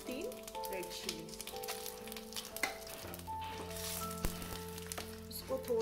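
Cumin seeds, two bay leaves and three dried red chilies sizzle and crackle in hot oil in a heated kadhai, a steady frying hiss with light pops and occasional utensil clinks, close and fairly quiet.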